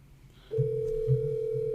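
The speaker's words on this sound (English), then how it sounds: "There it is, ringing extension 1003." A steady electronic telephone ringing tone from a UCM phone system extension starts after a brief quiet moment and holds evenly, with a low pulsing hum underneath.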